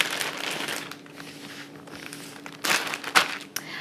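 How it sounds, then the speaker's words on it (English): Crackers being pounded by hand inside a plastic bag, giving crinkly plastic rustling with a few sharper crunching bursts near the end, close and fairly quiet. "I'm just gonna pound them with the palm of my hand. Make them a little bit thinner"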